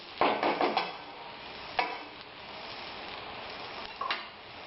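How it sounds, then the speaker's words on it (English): Sliced onions for chicken biryani fry on high flame, a soft steady sizzle broken by a few clattering stirs of a utensil against the pan, no talking. "After around 2 to 3 minutes of continuously stirring and putting it on high flame"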